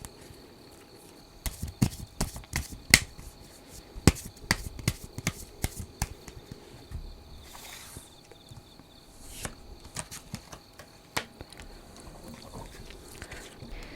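Tarot cards are shuffled and drawn at a reading, heard as soft, quick riffles, snaps and taps scattered in short bursts, close but quiet against a faint background hum, with no talk.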